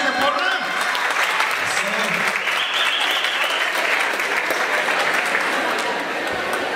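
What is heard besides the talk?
applause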